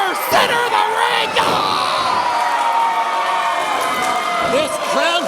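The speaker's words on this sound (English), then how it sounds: "This crowd was on their feet thinking that was it." A wrestling crowd at an independent show roars and cheers after a near-fall kick-out in the center of the ring, sustained loud shouting and whoops filling the room, with scattered high yells on top.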